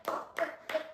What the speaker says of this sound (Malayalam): എല്ലാരും ഒന്ന് കൈയടിച്ച് പ്രോത്സാഹിപ്പിക്കാം.